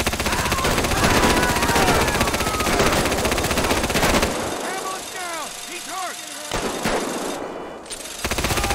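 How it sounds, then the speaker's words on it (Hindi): Minigun firing in GTA V, a loud sustained mechanical roar of rapid shots filling the first half, then tapering into quieter game noise with scattered whooshes and tonal effects. "तो अभी अपनी मिनी गन निकालने का टाइम आ ही गया है"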